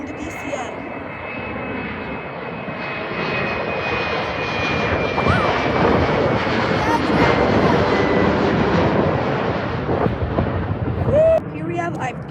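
A jet airliner at Boston Logan Airport roars steadily and loudly nearby for the whole stretch, its engine rumble swelling in the middle and fading slightly near the end.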